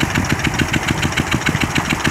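A Peter diesel engine with a fault runs loud and close, chugging in a steady, rapid knocking rhythm with harsh, uneven firing pulses.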